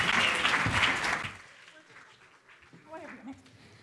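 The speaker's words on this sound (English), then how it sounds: "Give them a round of applause" Audience applause for panelists welcomed onto a stage at an SEO marketing conference, loud and dense at first, then dying away after about a second and a half, leaving a faint room with scattered sounds.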